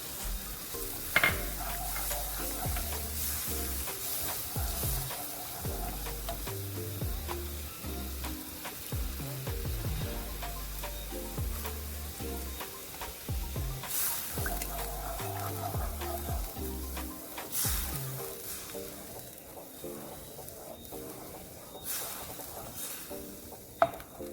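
Milk, evaporated, poured into a roux in a pan for baked mac and cheese, sizzling and bubbling with spoon stirring and scraping against the pan, close and continuous with a few sharper clinks.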